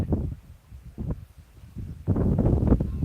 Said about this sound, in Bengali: প্রচুর বাতাস কিন্তু